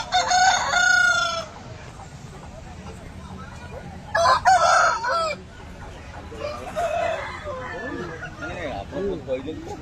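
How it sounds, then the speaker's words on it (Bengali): Chickens at a poultry market, with a rooster crowing loudly twice and scattered clucking in between, close by amid background chatter and market noise. "মুরগিগুলো হচ্ছে খুব ভালো কোয়ালিটির মুরগি আছে"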